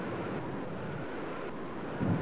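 Storm wind in the video game Another World, a steady low rushing roar that fills the clip on its own, swelling slightly near the end.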